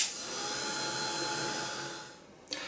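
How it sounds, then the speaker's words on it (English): A heat gun blows a steady, loud broadband rush of air over acrylic paint on an art journal page, holding constant for over two seconds and then cutting off abruptly near the end. "grab my heat gun and just give that a quick blast to make sure that our Acrylic is set"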